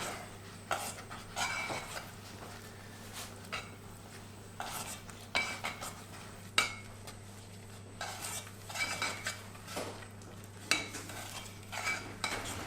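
A spoon stirs Ukrainian pumpkin soup in a pot over low heat, with repeated metallic scrapes and clinks against the pot over a faint steady hum, close and unhurried, no voices.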